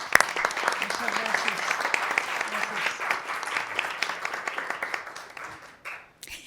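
An auditorium audience applauds with sustained, dense clapping that stays steady for several seconds before tapering off near the end.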